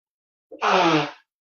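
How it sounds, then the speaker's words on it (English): A single loud sneeze from someone with allergies, a short sharp intake followed by a forceful burst lasting about half a second, close up and alone. "you have to blow your nose and you know you're going to sneeze"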